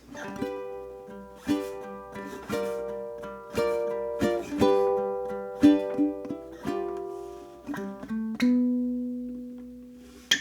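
A plucked ukulele plays the ending of a song, a bright, unhurried melody with ringing, decaying notes, fairly soft and alone.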